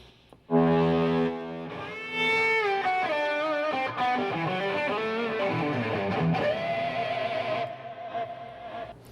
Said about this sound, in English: And also a couple of cool lead sounds